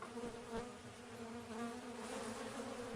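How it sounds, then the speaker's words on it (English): Carniolan honeybees, a lavender-bred heirloom strain from the Alpine and Balkan region, drone in a continuous steady buzz, a dense swarm hum close by with slight swells in loudness and no voices. "bees that thrive here are Carniolan honeybees"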